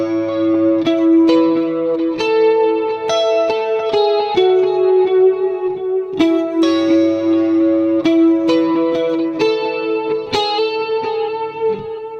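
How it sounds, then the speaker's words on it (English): An electric guitar played through the bright Trinity chorus effect on a Line 6 POD Go with delay rings out alone in a steady run of shimmering, echoing plucked notes and chords. "Or the Trinity chorus. Yep, I found it, the brightest kind of chorus."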